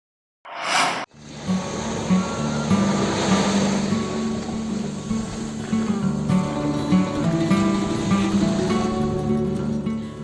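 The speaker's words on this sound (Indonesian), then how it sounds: "suara hantaman ombak di pasir pantai seolah melafalkan nada-nada indah yang menghibur telinga" Ocean waves break on the sandy shore of Pantai Paku beach, a loud, continuous rushing surf roar after a short burst of noise at the start.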